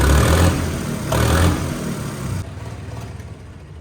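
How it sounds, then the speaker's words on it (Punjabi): A tractor engine with a turbo revs up in a couple of surges and then settles back toward a lower drone. The engine is close and fairly loud, with no voices heard over it. "ਇੱਕ ਵਾਰੀ ਨਾ ਮੈਂ ਤੁਹਾਨੂੰ ਟਰਬੋ ਦੇ ਕੋਲੇ ਖੜ ਕੇ ਫੇਰ ਆਵਾਜ਼ ਸੁਣਾਉਣਾ।"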